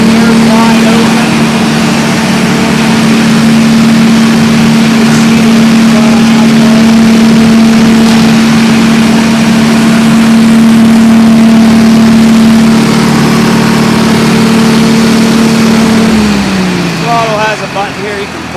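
Wisconsin engine on a Reinco TM-730 skid-mounted straw blower runs loud and steady at a constant high pitch, then winds down near the end, with a person talking over it.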